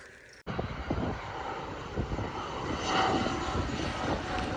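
A fixed-wing airplane flies over a small domestic airport, its engine a steady, fairly loud drone that swells slightly midway and holds throughout.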